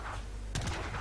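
Cannon fire during an Age of Empires III match: a sudden cluster of booming shots in quick succession midway through, rising over a constant background wash of battle ambience.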